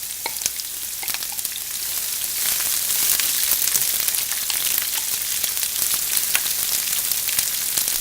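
Slivered onions frying in a pan with mustard seeds for chicken vindaloo, a loud, dense crackling sizzle that holds steady throughout with rapid popping specks.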